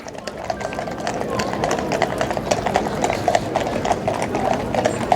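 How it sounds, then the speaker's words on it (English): Horses' hooves clip-clop steadily at close range on a cold Remembrance Day parade route in Melton Mowbray, a continuous busy patter of many hoofbeats with faint crowd noise underneath. "I'm going to follow the horses around actually and see where they're actually going"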